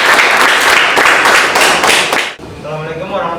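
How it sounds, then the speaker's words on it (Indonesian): A classroom group claps for the first group's presentation during a teacher-training performance assessment, a dense, lively burst of many hands that cuts off abruptly, leaving quieter room sound with faint voices. "Kasih aplaus untuk kelompok 1."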